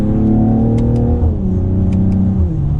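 A 2021 Mercedes-AMG GLE 53 Coupe engine's pitch steps down as it downshifts, a smooth droning hum dropping in two stages, close and steady under continuous road noise.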